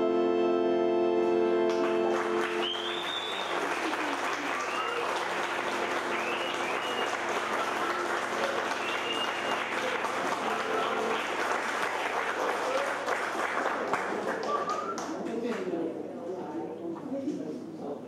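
Audience applause for the performers at the close of a musical stage show, a loud, dense crowd of clapping sustained for about fifteen seconds, with a few voices and cheers mixed in before it thins toward the end.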